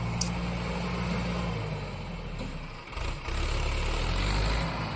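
A tractor engine with an adjusted clutch and RPM runs as a loud, steady, close drone. It dips briefly midway, then swells back up to full strength.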